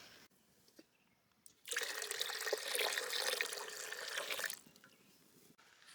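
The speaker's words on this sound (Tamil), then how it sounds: "பாலில் தண்ணி சேர்த்துக்கலாம்." Water poured from a tap into a pot of milk in a village kitchen, a steady splashing stream for a few seconds that starts and stops abruptly, with quiet background before and after.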